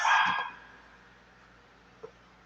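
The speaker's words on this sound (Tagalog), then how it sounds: "napakaingay ang aming aso" A family dog in a home kitchen gives a short burst of loud, close barking at the start, then falls quiet apart from one faint yip near the end.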